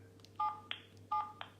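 Two close, clear telephone keypad dialing beeps on an outside line, each a short dual tone followed by a sharp click, heard alone over a low steady hum.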